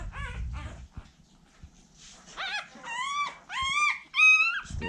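Week-old puppies whimper and yip up close, thin high cries coming in short bursts that grow louder and more frequent toward the end.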